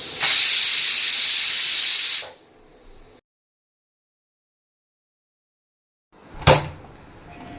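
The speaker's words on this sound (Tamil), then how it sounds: "நல்லா கொதி வந்ததும் நம்ம மூடி விசில் போட்டுடலாம் கரெக்டாக இதில் ரெண்டு விசில் விட்டால் போதும்" A pressure cooker whistle blasts a loud steady hiss of steam for about two seconds and stops, followed by silence, then a shorter burst of hissing returns while cooking coconut milk rice.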